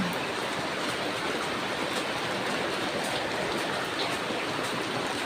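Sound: heavy rain

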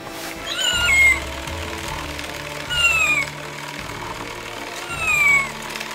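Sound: kitten meowing

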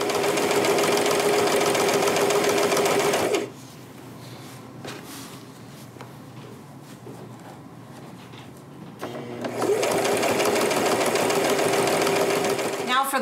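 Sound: sewing machine stitching a wrap skirt

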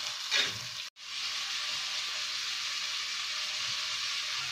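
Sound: sautéing onions with kokum and salt in a pan

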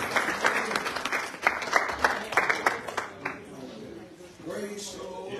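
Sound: hand clap of praise in church

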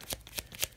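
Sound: shuffling tarot cards

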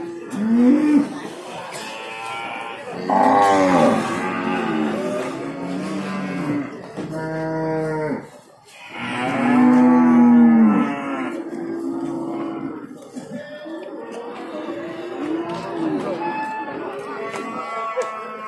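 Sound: breeding cows mooing at livestock market

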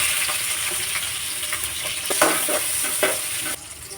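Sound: onions sizzling in hot oil

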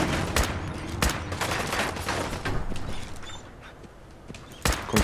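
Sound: gunfire in a video game

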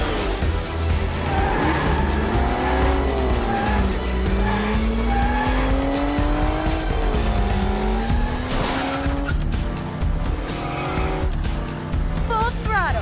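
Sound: race cars speeding with tire squeal in a Hot Wheels cartoon

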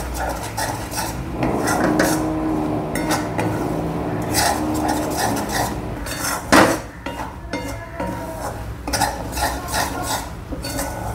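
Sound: stirring spring onion and spices in a pan

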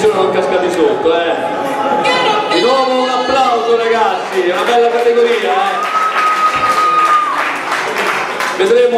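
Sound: audience applause at a bodybuilding competition

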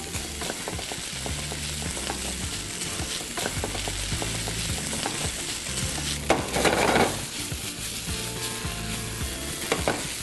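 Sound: onion and bacon frying

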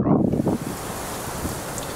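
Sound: strong wind

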